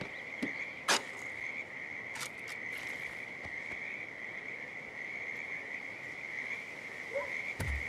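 Frogs croak steadily in a frog habitat behind a house in Whittleton Creek in Hitman 2. A constant high chorus carries through the whole clip, broken by a few soft taps and rustles, with no talking.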